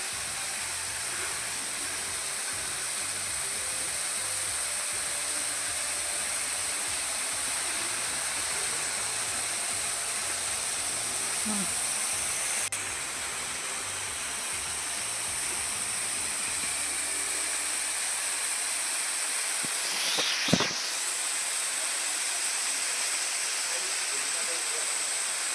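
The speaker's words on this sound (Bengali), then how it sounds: "অনেকক্ষণ থেকেই জলের আওয়াজ পাচ্ছিলাম, বুঝতে পারছি কোথাও থেকে পড়ছে, উপর থেকে জলটা পড়ছে" A waterfall in Gangtok, Sikkim, drops water from above, making a steady broadband rush that holds for a long stretch. Near the end the rush thins, and a brief knock sounds.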